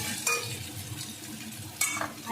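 Potatoes with spices frying and being stirred in a pan, a soft continuous sizzle with two brief louder scrapes of the spoon.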